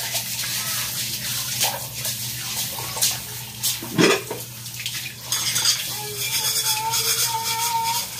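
A plate being washed under a running kitchen tap, with water streaming steadily and dishes clinking and scraping close by.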